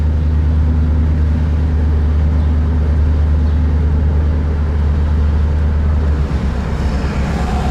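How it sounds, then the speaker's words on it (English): A 1964 Studebaker Daytona convertible with a 259 V8 cruising along, its steady low engine drone and road rumble continuous and fairly loud throughout, with no talk. "It's a typical 64 V8."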